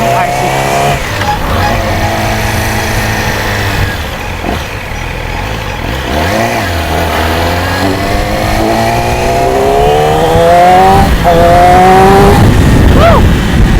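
A 2020 Yamaha R6 sport bike accelerates hard on the road, its engine revving up through rising whines with gear changes, loud and close under heavy wind rush, and a rider's voice comes through at moments.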